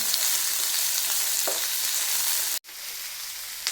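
Two onions and four green chillies sautéing in a hot pan, a steady, loud sizzle and crackle that holds throughout with a brief break near the end, no talk.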